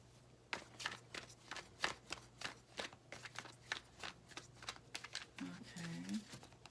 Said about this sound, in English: I want to shuffle them one more time